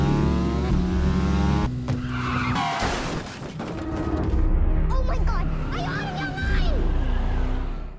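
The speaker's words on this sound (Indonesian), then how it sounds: "Sehingga dengan cepat Matt berbelok mengambil jalan lain dan melakukan pengereman mendadak." A car swerves into a sharp turn and brakes hard, tires skidding and squealing over a revving engine in a chase scene, with a voice talking over it.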